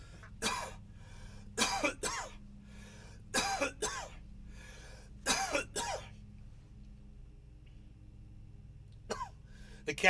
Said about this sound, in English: He hears me coughing.